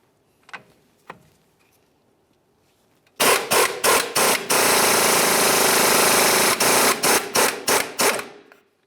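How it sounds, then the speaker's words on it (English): Two soft clicks, then a loud rapid burst of impact-wrench hammering with a 21mm socket on the outer tie rod end nut of a Dodge Dakota, in stuttering pulses and a sustained stretch before cutting off. "Use a 21mm socket to remove your outer tie rod end nut."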